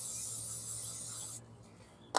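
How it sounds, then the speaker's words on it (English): Aerosol brake cleaner sprayed into the centre of a wheel hub during a wheel bearing and race replacement, a steady loud hiss for over a second before cutting off, followed by faint handling noises and a brief knock. "I spray brake clean in the middle of the hub."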